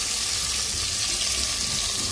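Water poured into a pan of frying prawns and onions, a steady broadband hiss and sizzle that runs evenly and loudly throughout, with no voices.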